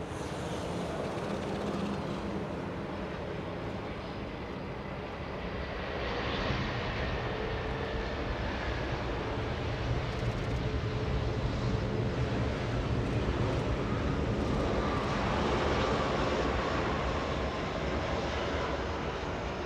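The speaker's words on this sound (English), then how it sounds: "All right, KLM landing." A KLM airliner lands at Los Angeles International Airport, its jet engines producing a loud, broad, continuous roar that swells and holds, with wind noise buffeting the microphone.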